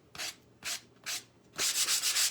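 Sandpaper rubs across painted wood in three separate strokes, then a rapid run of shorter back-and-forth scrubs, close and clear.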